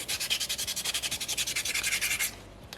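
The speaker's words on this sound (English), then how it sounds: "You'll find you get a much better sanding finish when you're using water than if you were to sand it dry." Rhythmic back-and-forth rubbing of wet sandpaper on soapstone, about two dozen quick even strokes, close and steady, then stopping.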